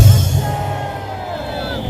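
A large outdoor crowd at a March 1st Independence Movement Day rally on a Gwanghwamun plaza in Seoul shouts "manse" in unison, a single loud massed cheer that fades into babble.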